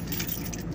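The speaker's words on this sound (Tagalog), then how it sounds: "at doon po sa aking body bag ay lagi po ito nakalagay, yung mga susi na yan." Metal keys for an in-vehicle monitoring system jangle steadily for under a second, close and fairly loud, with no voices.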